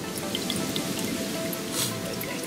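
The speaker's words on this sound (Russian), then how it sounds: "Фильтруем воду." Soft, steady dripping of lake water through a filter, falling drop by drop into a container, close by, with a faint continuous background hiss and no talking.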